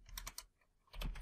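Quick keystrokes clatter on a computer keyboard while a Python command is entered, a short cluster of sharp taps, a brief pause, then another burst, close and clear.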